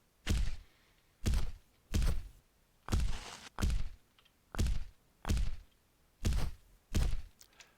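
A large dragon walks across terrain in an AnyRPG Unity demo game, each heavy step landing as a deep, booming thud with a crunchy surface layer, about ten evenly spaced footfalls, close and loud with no talk.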